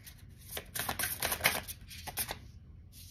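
Tarot cards being shuffled and drawn during a reading: a quick run of crisp papery riffles and flicks with short pauses, close and moderately loud, with no talking.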